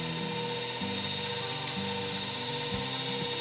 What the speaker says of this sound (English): With the mixer on a medium speed, we're going to add 1 egg at a time, and we're going to beat it till it gets well incorporated.